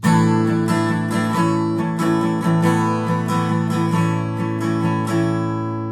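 Strummed guitar chords ring out close and steady, with rhythmic strums and sustained tones changing chord every second or so.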